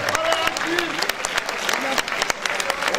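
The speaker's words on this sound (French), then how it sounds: "On applaudit très très fort." Crowd applauding at a France vs Morocco Thai boxing event in Le Pouliguen, dense clapping with sharp individual claps standing out, with voices under it throughout.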